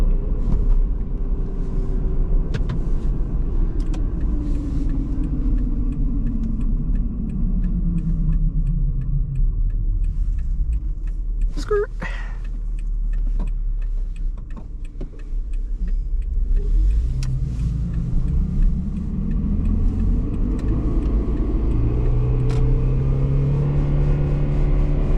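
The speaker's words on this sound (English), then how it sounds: "A little wind noise." A 2008 Toyota Prius cruises on the highway with a steady road rumble and a mild rush of wind noise, as passing traffic swells and fades around it, heard from inside the car.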